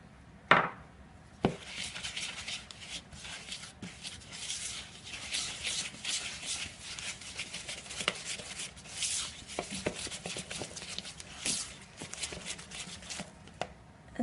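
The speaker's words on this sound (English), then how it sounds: "So you just cream the butter together and then you add the sugar" Soft butter and sugar creamed together in a bowl for a frangipane filling for galette des rois, giving a steady, close scraping and rubbing with scattered light knocks against the bowl and no voices.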